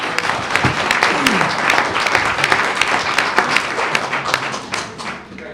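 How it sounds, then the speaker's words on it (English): An audience at a school board meeting claps for students in dense, sustained applause that holds steady before easing off at the end. "Let's give them another round of applause."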